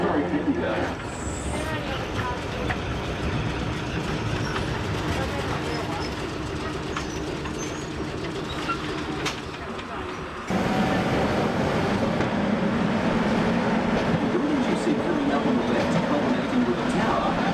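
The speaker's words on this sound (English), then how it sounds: "Your tram driver will now turn the tram round" A historic Bendigo tram turning round runs with a steady, loud rail rumble and wheel clatter that grows heavier partway through.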